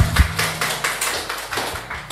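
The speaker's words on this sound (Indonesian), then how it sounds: "sekarang kamu tepuk tangan dulu dong" Several people in a church congregation clap hands in a brief, uneven burst of a few sharp taps and claps, fairly close and moderately loud, with no talking over it.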